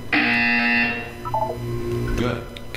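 A loud electronic buzzer sounds in Portal 2, a sustained harsh tone that cuts off after about a second, followed by lower synthetic tones and faint voice-like sounds.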